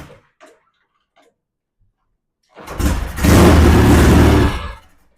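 A Norton motorcycle kicked over, faint clicks and a quiet pause, then the engine catching with a sudden loud rough roar that holds for about a second and a half before cutting off.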